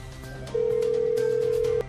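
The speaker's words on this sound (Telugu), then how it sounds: "రింగ్ అవుతుంది." A telephone ringing on a call line, one sustained electronic ring tone that starts partway in and holds steadily before cutting off, with faint background sound beneath and no speech.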